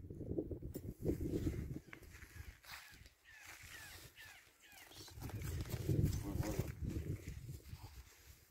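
A criollo horse shifts and steps while being cinched for saddling, giving faint hoof thuds and shuffles amid quiet background voices and a distant crow.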